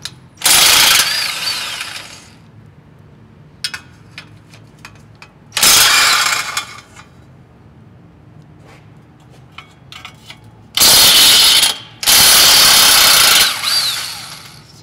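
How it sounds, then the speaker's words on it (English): A hand ratchet or impact tool loosening 12mm nuts on car downpipe studs, heard as several loud bursts of mechanical clicking and whirring separated by quieter pauses with faint tool clinks, close up and without talk. "If you don't have impact, just ratchet, whatever."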